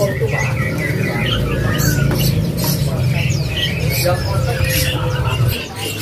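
White canaries call and chirp at a bird seller's stall, bright scattered tweets and squawks over a busy murmur of people talking nearby.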